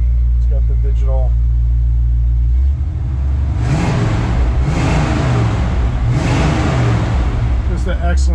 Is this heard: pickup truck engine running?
yes